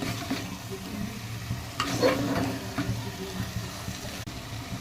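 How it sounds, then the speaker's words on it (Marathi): Cooked mutton is sautéed with masala in a pan, with a moderate sizzle under repeated spoon scrapes and stirring clatter, fairly close and without speech. "शिजवून घेतलेलं मटण टाकूया मस्त मसाला परतून घ्यायचं"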